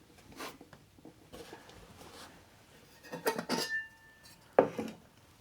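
Lightweight titanium camping pot and pan from a two-piece cookware set clinking and scraping as they are handled, ending in a bright metallic click as the pan's handle locks in place; close and fairly quiet, without talk.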